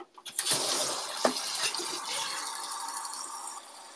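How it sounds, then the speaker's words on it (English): Hot water runs steadily from a tap into a container, a bright gushing stream after a couple of quick clunks, continuing without pause. "Let me just get some hot water going because I'm thirsty."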